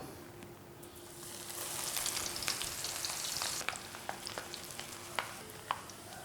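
Sea bass frying in hot oil: a steady, close sizzle that rises in the middle, with occasional sharp pops and crackles toward the end.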